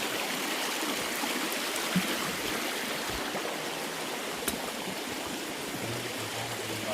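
A river flows steadily nearby with a continuous broad rushing hiss and no pauses.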